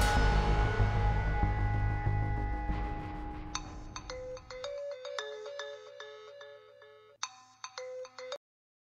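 A phone ringtone plays as a bright electronic melody of repeated short tones, clear and fairly loud. It emerges as a louder low rumble at the start fades out, then pauses briefly and resumes before cutting off.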